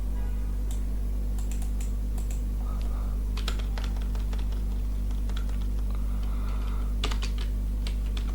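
Keys clatter in quick irregular bursts on a computer keyboard while someone writes a filename into a save dialog, close and clear over a steady low hum.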